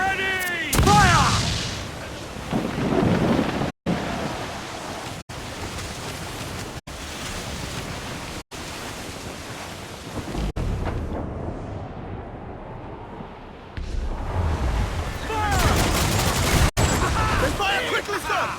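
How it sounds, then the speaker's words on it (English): Heavy cannon fire in the naval combat of the video game Assassin's Creed IV: Black Flag, with sharp booming volleys and crashing blasts among ocean surf and shouting voices. "Cannon ready! Fire!"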